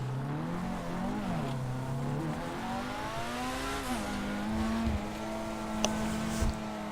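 A car engine revs and holds a steady, rising drone, changing pitch as it climbs and settles, close and continuous, with a couple of brief sharp knocks near the end and no talking.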